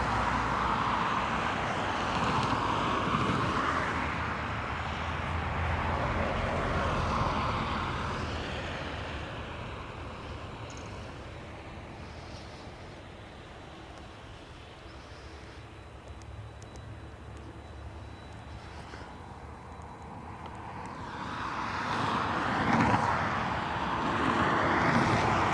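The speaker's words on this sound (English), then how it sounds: "So apparently it's 3 F-35s." Three F-35 fighter jets flying over Dublin, a broad distant roar that swells, fades to a low rumble, then rises again near the end under wind noise.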